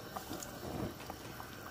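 Cabbage soup bubbles at a low, steady simmer in a pot on the stove, a faint continuous burble with small pops throughout and no talk.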